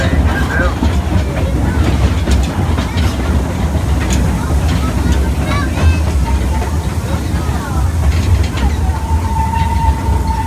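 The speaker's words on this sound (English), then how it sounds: "The engine pulling today's train is engine 104." Omaha Zoo railroad train pulled by engine 104, a steady close rumble of rolling cars with faint clickety-clack and brief squeals, with a voice talking over it.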